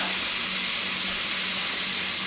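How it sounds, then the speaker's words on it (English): Continuous loud sizzle and hiss from a burger patty cooking on a hot Ninja Foodi electric grill, heard up close without any voices. "sizzle, sizzle."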